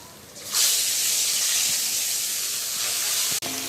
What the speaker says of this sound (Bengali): এখন এ কটা মাছ ভাজা হবে।